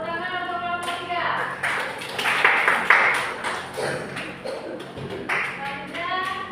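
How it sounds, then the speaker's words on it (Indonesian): A classroom or training-session audience claps for a presenting group in a short burst that swells in the middle, mixed with ringing tonal sounds and some background voices. "Tepuk tangan untuk kelompok 3."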